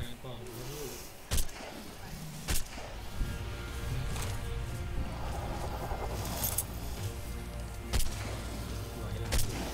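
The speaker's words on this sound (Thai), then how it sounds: "เดี๋ยวแล้วกูเอาปืนยิงแม่งเลยครั้งนึงนะ" Gunshots from a firearm in ARK: Survival Evolved crack out as several sharp, loud reports spaced a second or more apart, over a steady rumbling game background with a voice talking.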